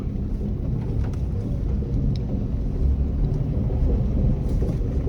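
A small Suzuki Alto LXI hatchback drives off-road, its engine and tyres giving a steady low rumble with wind buffeting the microphone, continuous and fairly loud throughout.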